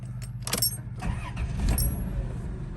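A 1990 Chrysler Town & Country van engine starts up nearby, a short cranking burst followed by the engine catching and settling into a steady low idle.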